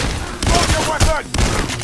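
Heavy gunfire erupts during a bank heist in Payday: The Heist at First World Bank, several loud overlapping bursts in quick succession, with dense, close shots filling the whole moment.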